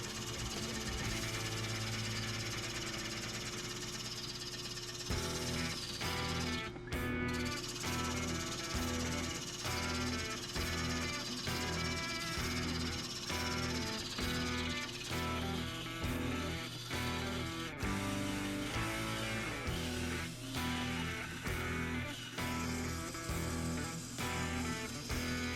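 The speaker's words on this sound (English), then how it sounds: "Now we will start turning and shaping the outside of the bowl." A wood lathe shaping the outside of a turned bowl, with a steady motor hum and a rapid, rhythmic chatter of the cutting tool against the spinning wood, loud and continuous with no talk.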